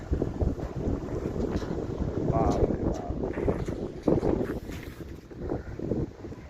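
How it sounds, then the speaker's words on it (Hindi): Strong wind gusts buffet the microphone in a constant roar while a person talks over it, on a cold day in a hill village in Rudraprayag. "देखो कितनी तेज़ हवा चल रही है"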